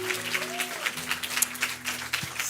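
Audience applause at a church gathering, a dense patter of clapping hands close and moderately loud, with some voices mixed in under it.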